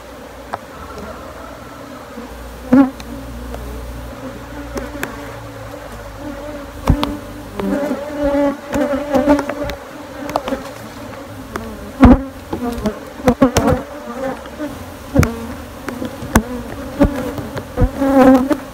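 Bees swarm around a nest built inside three stacked tyres, their loud, dense buzzing close and continuous, with individual insects rising and falling in pitch as they fly past and scattered knocks from handling the tyres.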